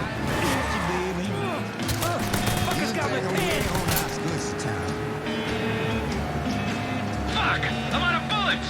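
Gunfire in Mafia 3 Definitive Edition, scattered shots cracking through a dense mix of music, engine noise and game effects, with voices talking throughout.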